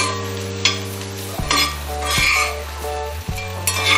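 Potato fry sizzles in a cast iron pan while a utensil stirs and scrapes it in repeated strokes, with sharp clanks against the metal over a constant frying hiss.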